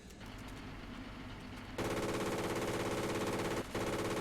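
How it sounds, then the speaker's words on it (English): A 20mm anti-aircraft gun on an Sd Kfz 140/1 fires in War Thunder, starting after a quiet stretch with a loud, rapid, steady stream of shots that breaks off briefly near the end and then resumes. "So I'm trying to lead him with a 20mm."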